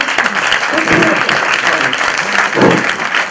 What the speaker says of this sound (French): moi, je voudrais bien qu'on l'applaudisse